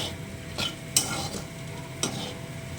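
Dried shrimp (chingri shutki) frying in a pan, with a steady crackling sizzle and a few sharp scraping stirs of a spatula against the pan.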